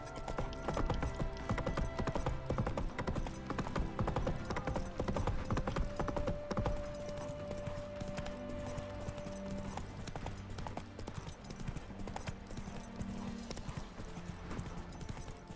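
A horse in The Witcher 3 gallops with continuous rhythmic hoofbeats, heard alone over a low game ambience with no talk.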